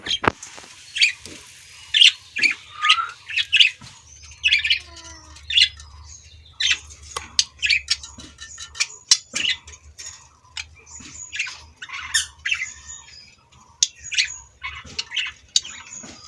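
Lutino and albino budgerigars, red-eyed colour mutations, chirp and squawk close by in a rapid, irregular stream of sharp calls with no talking.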